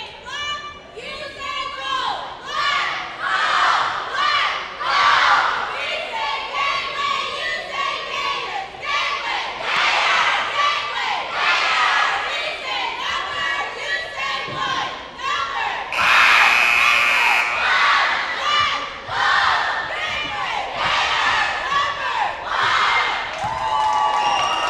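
A Gators cheer squad, joined by fifth and sixth grade basketball players, leads loud rhythmic chanting and cheering with the crowd in a gym at a girls' high school basketball game, sustained shouts in repeated bursts with a whistle-like tone midway.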